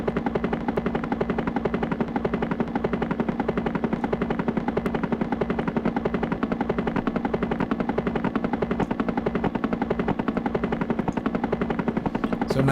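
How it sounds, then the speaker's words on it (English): An Arturia CMI V software synthesizer produces a loud, continuous rapid chopping pulse, like helicopter rotor blades, steady and unbroken throughout. "So now you've got like that helicopter effect."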